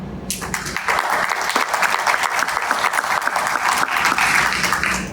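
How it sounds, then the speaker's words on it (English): Sustained applause from parents at an academic awards banquet, a steady dense patter of many hands clapping at once, filling the whole stretch without letting up. "So parents, please give yourselves a round of applause."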